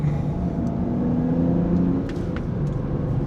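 A cheap used BMW engine pulls under throttle with turbo boost building, its steady close rumble and rising whir filling the cabin for the whole few seconds, with no talk over it.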